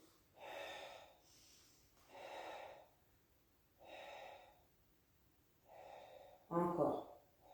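Slow, deep breaths during a Pilates exercise, long exhales and inhales alternating in a steady rhythm, close and clear with no talking, ending in a sharper, louder intake.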